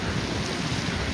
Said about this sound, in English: It's a windy old day.